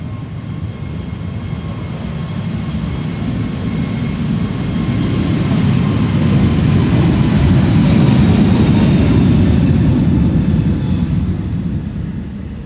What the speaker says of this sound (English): JetBlue flight 632 to Boston, Massachusetts. It's an A321neo,